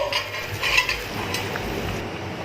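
A ladle scrapes and clinks against a pot while northern Thai pork offal curry is scooped into a bowl, producing close, soft metallic knocks and wet stirring sounds with no talking.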